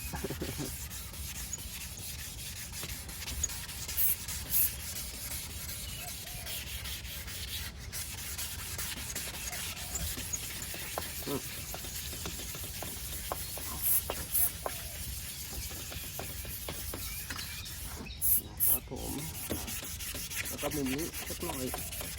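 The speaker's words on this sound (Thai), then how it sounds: "ชอบผ้าไหนก็ขัดนะครับเอาที่เราสะดวกนะฮะ" A cloth rubs back and forth over an old, cloudy car headlight to polish it. The scrubbing is steady and continuous at close range, with a few faint high chirps in the background.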